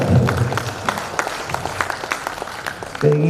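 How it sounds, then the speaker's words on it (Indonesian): Scattered applause from a gathering of lawyers at a national association meeting, with a burst of claps tapering into sparse, uneven individual claps before a voice resumes. "Tepuk tangan."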